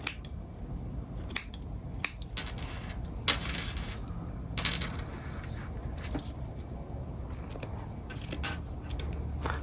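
Scissors trim the ends of a yarn tassel for a crochet runner, giving a few sharp close snips over a steady background hiss.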